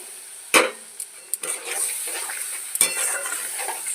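A spice paste of dried chili powder and a little water sizzles gently as it is stir-fried in a pan, with a few sharp clinks of a spatula against the metal.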